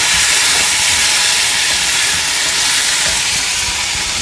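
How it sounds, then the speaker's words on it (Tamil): Red chillies and tomatoes sauté in a hot pan for a peanut and cluster bean gravy, a loud, close, steady sizzling hiss that carries on unbroken with no talking. "எல்லாத்தையும் சேர்த்து பச்சை வாசனை போகிற வரைக்கும் நல்லா வதக்கிடலாம்."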